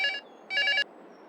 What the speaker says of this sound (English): Now there's my phone.